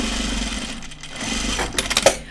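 A sewing machine runs on a raglan top, a close mechanical whir that fades briefly, resumes, and ends with a few sharp clicks and knocks.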